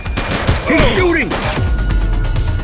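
Loud gunshots crack out in a police shooter game, a short burst of blasts mixed with a shout.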